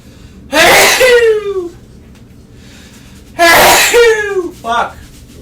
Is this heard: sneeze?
yes